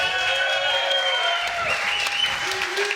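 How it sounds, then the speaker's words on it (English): Brief, moderate applause from a studio audience, a steady patter of clapping lasting a few seconds with faint voices beneath. "Smattering of applause"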